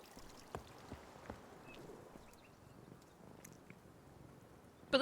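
A cat purrs softly in a point-and-click video game, a faint, steady, low rumble lasting several seconds. A few light clicks sit over it, and a brief louder burst comes at the very end.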